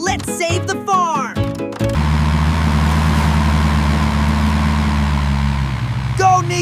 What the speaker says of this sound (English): Tractor engine on!